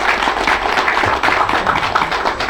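Seminar audience in Daegu clapping together in a dense, steady burst of applause that fills the room at close range, with no voices over it.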